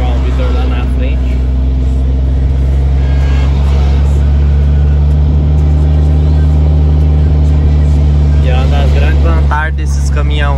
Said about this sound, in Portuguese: Descendo quase tudo no freio motor aí, ó.